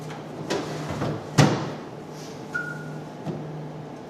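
A drawer on a hospital airway cart holding laryngoscope blades and stylets is opened, giving a few close knocks and clunks with a brief sliding scrape, then quiet room tone.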